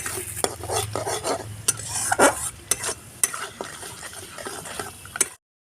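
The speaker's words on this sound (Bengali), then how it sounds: "মশলাটা ভাজা ভাজা করে নিতে হবে" Spice paste for a vegetarian potato curry fries in a pan with a continuous sizzle, broken by frequent sharp clinks and scrapes of a stirring spoon, close and clear, then cutting to silence.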